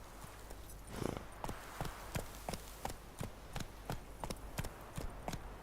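Horse hooves clip-clop at a steady walking rhythm in the video game DayZ, about a dozen crisp, fairly quiet strikes.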